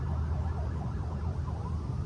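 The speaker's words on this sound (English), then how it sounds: "Sirens." Emergency vehicle sirens wail from a distance, their rising and falling tones weaving faintly over a constant background rumble.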